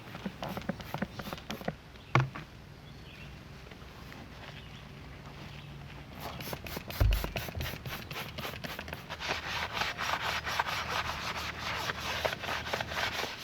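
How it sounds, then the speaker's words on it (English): A sponge scrubs a dirty car wheel rim in steady, repeated rubbing strokes, close and fairly quiet, with a couple of brief knocks partway through and the scrubbing growing busier toward the end. "Try not to use the abrasive side of the sponge on the front of the rim to prevent scratches."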